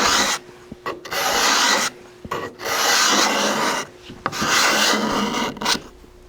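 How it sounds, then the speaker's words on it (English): A sharpened French curve scraper rasps over wood to take ridges off, in three long strokes separated by brief pauses, close and fairly loud. "I've got kind of a French curve shaped scraper that I've sharpened up"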